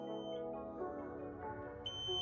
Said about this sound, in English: RED A33 alarm with the PureFlow home hemodialysis machine.